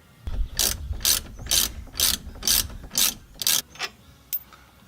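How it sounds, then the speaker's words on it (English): A ratchet wrench with a 13/16 socket turns out a brake caliper bolt on a Corvette C6 Z06, giving about eight crisp, evenly spaced bursts of clicking close to the mic, each followed by a short pause, with no talk. "We can pull the caliper off using a 13/16 socket."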